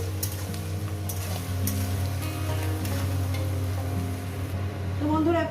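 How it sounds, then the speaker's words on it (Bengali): Onions frying in a pan for a spicy egg curry, a steady sizzle with occasional stirring scrapes and a low kitchen hum throughout, fairly close and continuous. "পেঁয়াজটাকে দিয়ে আমি সুন্দর করে লাল লাল করে ভেজে নেবো দু মিনিট কি তিন মিনিট আমি পেঁয়াজটাকে ভেজে নেবো"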